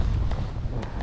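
Strong wind buffets the microphone at a camp on Kamchatka, a steady low roar with gusty rumble and no voices.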